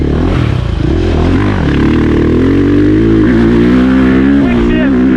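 A dirt bike with a quick shifter accelerates hard, its engine note rising in quick stepped pitch sweeps through the gears, loud and close with wind buffeting.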